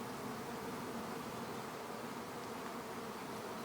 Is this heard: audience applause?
no